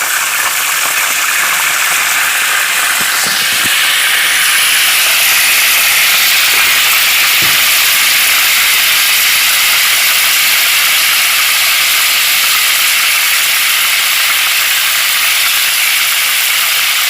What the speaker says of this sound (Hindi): ये हमने तेल जो है गर्म करना है, जिसमें हमने प्याज ब्राउन की थी ना, उसी में हम गोश्त डाल देंगे।